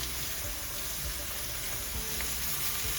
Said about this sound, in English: you do have some hot oil that's popping up there